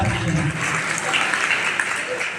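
An audience at a sannyas diksha initiation ceremony in Wambori applauds with dense, sustained clapping that fills the clip, with voices mixed in underneath.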